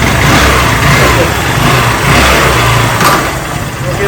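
A brand-new 2024 Honda Activa BS6 scooter, its self-start not working, is kick-started, and the small engine runs close by with a steady, slightly uneven chug.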